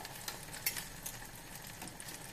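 French toast, bread soaked in egg, fries in a pan over high heat, giving a faint, steady sizzle with a few light taps and clicks of a utensil, heard alone without voices.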